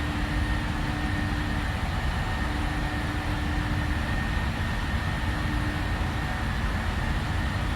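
A Boeing 737 airliner climbs out in a flight simulator, heard as a loud, unbroken engine and airflow roar with a faint steady hum, no voices.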